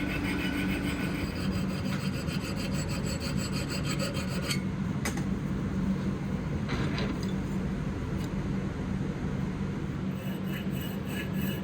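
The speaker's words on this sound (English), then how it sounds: "Switching to needle files for the tight corners" Needle files rasping steadily on the steel of a katana being shaped from an old saw blade, a continuous close scraping with a few sharper clicks along the way.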